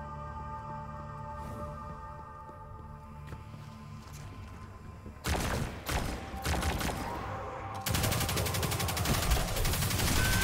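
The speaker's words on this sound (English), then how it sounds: "Yes, shoot me with electricity." Enemy electric shots in Destiny 2, a Beyond Light mission, break in as dense crackling bursts after a quieter stretch, the second burst louder and continuous, with no talk over them.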